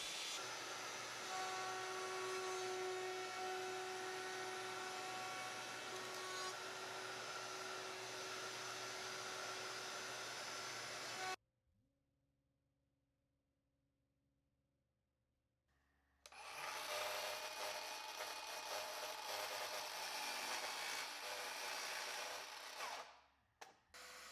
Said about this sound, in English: I began milling the front pieces of seat trim to cover the plywood edge